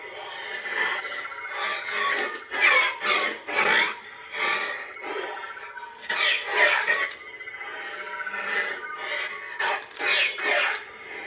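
A Graflex 2.0 lightsaber fitted with a CFX sound board and a vented pommel with a TCS 28mm speaker, set to hybrid smooth swing mode. Repeated whooshing swings surge and fade over a continuous buzzing hum, close and fairly loud.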